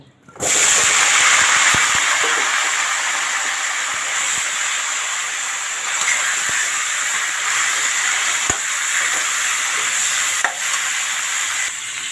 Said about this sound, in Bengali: আলুগুলো ভাজা হয়ে গেছে এখন ফুলকপি ভেজে নেব